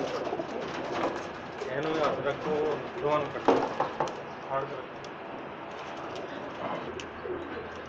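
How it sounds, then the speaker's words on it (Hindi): Several Multan pigeons coo nearby in soft, throaty bursts at a pigeon shop in Jeddah, with people talking over them and light background noise. "ये मुल्तान के कबूतर हैं जी"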